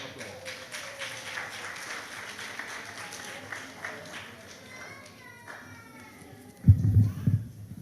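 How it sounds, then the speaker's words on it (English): An audience claps in a round of applause at a health seminar, a steady crowded patter that runs throughout, with a few heavier thumps near the end and faint voices mixed in. "Give her a round of applause."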